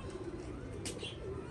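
A captive pigeon coos softly and at a distance, with a low, brief murmuring call under faint background noise.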